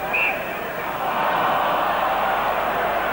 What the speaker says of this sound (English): a great roar from the crowd